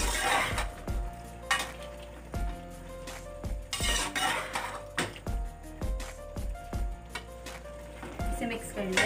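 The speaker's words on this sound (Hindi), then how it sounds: "अब मैं इसमें डाल रही हूँ बंद गोभी और इसे भी कर लेंगे इसमें अच्छे से मिक्स" Spoon clanking against a pot as cabbage is stirred into vegetable pulao with softened potato and carrot, rhythmic metallic scrapes and clinks repeating every second or so over a low sizzle.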